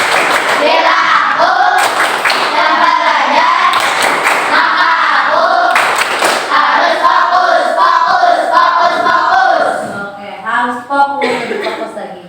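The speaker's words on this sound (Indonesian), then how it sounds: "coba mana tepuk fokusnya ya" Classroom of pupils doing the tepuk fokus clapping chant, loud voices chanting in unison with rhythmic group claps for about ten seconds, then trailing off into scattered voices.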